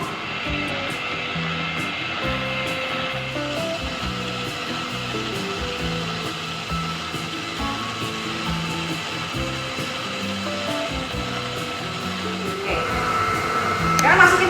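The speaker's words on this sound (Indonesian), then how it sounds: "Sambil di mixer kita masukkan bergantian." Electric mixer beating cake batter for a Basque burnt cheesecake with pineapple, a steady whirring drone that runs the whole time with changing tones over it and a louder rattle near the end.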